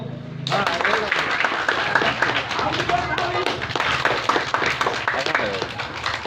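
Group of villagers clapping for a village magician show in Odisha, a dense burst of rapid hand claps starting suddenly and continuing close and loud with voices mixed in.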